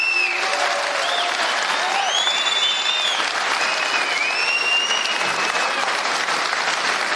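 A packed hall in Gyumri erupts in loud, continuous applause, dense clapping with a few whistles and cheers rising over the crowd.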